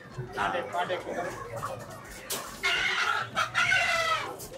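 Several farm chickens cluck and squawk close by in overlapping bursts at a wholesale market in Vijayawada, with a rooster-like call rising near the end.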